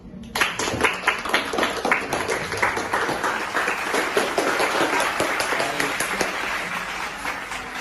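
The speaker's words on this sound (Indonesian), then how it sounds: "Beri tepuk tangan untuk mereka." Audience applause for guests introduced at an event, a dense wash of clapping that swells quickly and holds steady, loud and close throughout.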